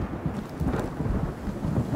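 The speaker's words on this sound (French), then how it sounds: "Justement il pleut quand on en parle." Steady rain with a deep rumble of thunder in the Sons of the Forest survival game, a dense continuous wash of rainfall and low rolling thunder filling the whole stretch, loud and close with no voices.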